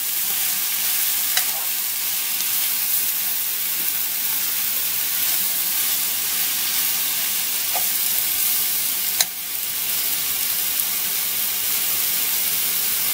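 Steady, loud sizzling of vegetables frying in a hot pan, a continuous hiss with a few faint clinks and scrapes.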